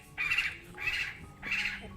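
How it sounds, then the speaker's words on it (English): A bird squawks three times in evenly spaced harsh calls, fairly close, over quiet low background noise. "I hear the birds."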